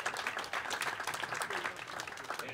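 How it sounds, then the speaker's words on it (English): A crowd at a poker tournament on the high seas applauds a player, a short burst of steady clapping heard at a distance and fairly faint. "Let's give Gary the 1 seat a round of applause."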